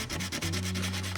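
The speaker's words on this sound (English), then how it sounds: "that's because I'm using the rough sandpaper first" Rough sandpaper rubbing across fiberglass in quick, even back-and-forth strokes, close and steady with a continuous gritty scratch, no talking.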